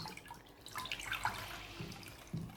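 A washcloth is soaked and wrung out in cool water at a sink, with faint close trickling, dripping and splashing over a couple of seconds.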